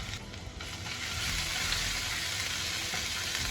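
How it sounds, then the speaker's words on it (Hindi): Garlic frying in a spoonful of oil in a pan for chilli chicken or chowmein, a steady, dense sizzle that swells after the first second and then holds loud and even, with no talk over it. "थोड़ी देर भून लेंगे"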